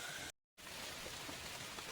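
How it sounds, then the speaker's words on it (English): Steady rain falls outdoors at a homestead where a deck is being built for a tiny house: a close, even hiss of drops on surfaces, briefly cut to silence before resuming. "I'm going to have to go out here in the rain and work."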